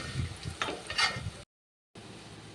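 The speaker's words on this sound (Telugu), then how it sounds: "ఒకసారి ఫస్ట్ అయిపోయింది, రెండోసారి వేయించుతున్నాను." Teasel gourd pieces fry in a pan during a second batch, with a close sizzle and scraping stir strokes that cut off into a brief silence before the frying noise resumes.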